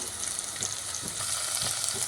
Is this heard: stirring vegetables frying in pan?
yes